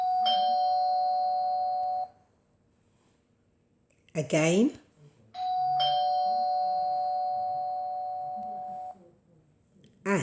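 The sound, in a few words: doorbell ringing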